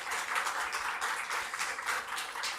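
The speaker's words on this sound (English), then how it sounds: "A round of applause for Tobias" Audience applause at the close of an ACM symposium session, a dense steady patter of many hands clapping that holds at even volume throughout, with no voices over it.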